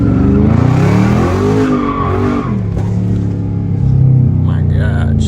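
A Dodge Charger Scat Pack with a V8 slides through a corner, engine roaring and tires squealing in long sweeping tones, loud and close, with excited voices over it.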